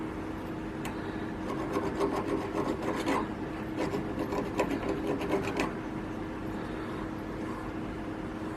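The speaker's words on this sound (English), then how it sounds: "Just need to dress it up a little, take some burrs off here." Deburring a metal part for a milling vise stop with a file, giving a few seconds of quick, moderate rasping strokes over a steady workshop hum, then quiet.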